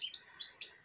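Small birds in a garden near the sea in Urdaibai Natural Park give a quick series of high, thin chirps, fairly faint and a little distant, with no voices.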